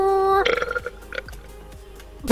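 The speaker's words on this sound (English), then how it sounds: "I'm gonna collect all your burps in videos and I'm gonna use them for a burp compilation" A loud, close burp from a person at a parkour outing, a rough, throaty eructation that breaks off into a few fainter clicks and rustles.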